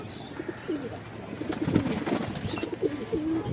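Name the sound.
pigeon cooing on a rooftop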